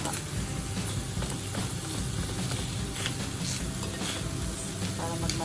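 Pork fat sizzling and rendering in a hot pan while cooking Filipino nilagang baboy, a steady crackling fry with light stirring scrapes, continuous and close.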